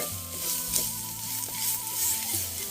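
Spicy phanaeng-style rat curry stir-fries in a pan, with a continuous loud sizzle and the scrape of stirring that swells and eases in waves. No voices are heard.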